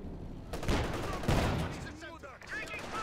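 Rapid 25mm cannon fire from an upgraded late-war Panzer IV in a World War II strategy game, dense bursts of gunfire that come and go, with a voice talking over the battle.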